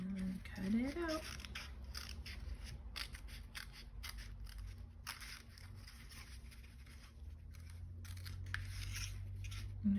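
Scissors snipping through a paper scrapbook overlay for a beach-waves layout, repeated close cutting strokes and rustling paper running throughout, with some quiet handling noise and a brief voice near the start.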